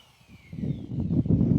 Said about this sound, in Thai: เจาะมือ